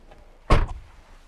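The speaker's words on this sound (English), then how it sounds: "Close the door." A car door on a Honda Integra Type R shuts with a single solid, close thud and a brief rattle, then quiet cabin ambience.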